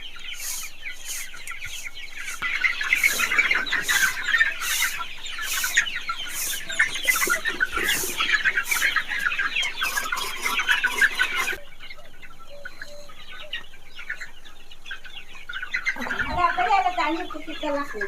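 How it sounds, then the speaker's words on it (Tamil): Chickens and chicks on an organic farm cluck and chatter steadily at close range while being fed, with rapid repeated clicking taps over the flock noise and a brief quieter stretch before more clucking. "கோழிக்கு ஃபீட் பண்ணியாச்சு."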